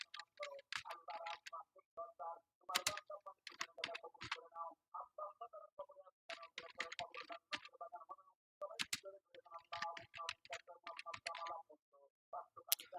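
Computer keyboard typing a search for YouTube thumbnail designs into Canva: bursts of close, crisp key clicks in quick irregular runs, separated by short pauses, with no talking.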